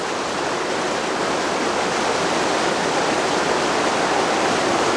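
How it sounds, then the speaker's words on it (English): Steady, broad rushing roar of a waterfall in a Hawaiian rainforest near Kilauea, continuous and full with no breaks and no voices. "The sound of a waterfall in the distance becomes a musical backdrop for a symphony of birds."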